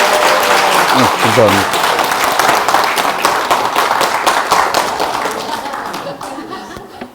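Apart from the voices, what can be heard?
audience applause for the lecturer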